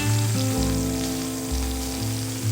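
Onion and green chilli frying in leftover fish-frying oil for an Assamese potato, tomato and fish curry, a steady close sizzle running throughout with a low hum, no talking.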